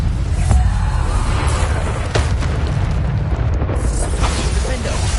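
A Bombarda spell explodes in the video game Hogwarts Legacy, giving a dense, roaring blast with sharp bursts inside a constant loud wash of game noise.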